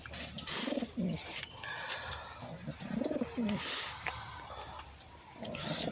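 Pet racing pigeons cooing close by in soft, repeated throaty bursts, with someone talking faintly now and then in the background.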